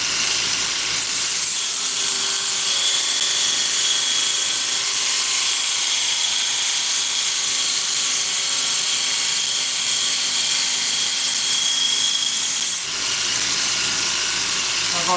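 A grinder shapes the bevel of a knife blade, giving off a loud, continuous abrasive hiss with a steady motor whine that holds for over ten seconds, then drops abruptly near the end.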